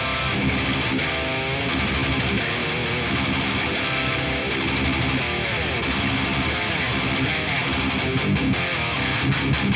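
Heavily distorted electric guitar through an Axe-Fx III amp modeler, playing thick, sustained chords and riffs, loud and close with a bright, harsh edge.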